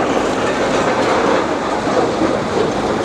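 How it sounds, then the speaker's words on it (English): Demolition machines and a small digger working on a site, a constant dense rumble and clatter of heavy machinery with no pauses, no voices. "there's sound of the machines all over the place"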